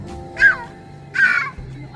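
Two harsh, crow-like bird calls ring out about a second apart at moderate distance over a quiet, low background hum.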